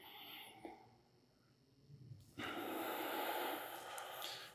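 A person breathes in and out with both shoulders shrugged up toward the ears: quiet, close breaths, then a louder, sustained exhale-like rush of air toward the end.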